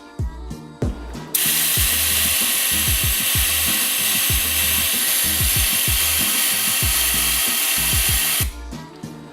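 Compressed air hisses into the valve ports of a sealed SR20DET cylinder head during an engine rebuild, a loud continuous blast of about seven seconds over a rapid mechanical ticking rattle, with a few clicks before and after.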